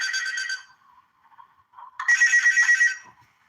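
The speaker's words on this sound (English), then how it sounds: "I was about to get a phone call from freaking phone guy." A phone ringing in a video game: two loud electronic ring bursts, the second longer, separated by a quieter gap, with no talking.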